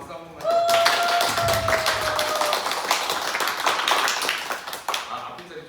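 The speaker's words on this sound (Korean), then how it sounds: "박수 한 번만 부탁드립니다" An audience claps together after being asked for a round of applause, a dense run of hand claps lasting several seconds at steady loudness, with a sustained whistle near the start and voices mixed in.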